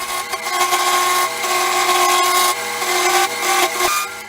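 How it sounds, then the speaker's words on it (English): A lathe tool cuts out the center of a segmented wooden bowl's bottom, giving a loud, continuous scraping and rasping of wood with brief dips and surges as the cut bites, no speech over it. "drilling out the center of the bottom of the bowl"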